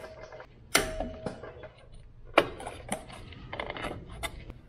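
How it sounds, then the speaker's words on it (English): A drum brake spring on a Nissan NV200 being pried off with vise grips, heard as sharp metallic clanks and snaps with smaller clicks and rattles between, close and irregular. "So using the vise grips, I'm first gonna take the bottom spring off."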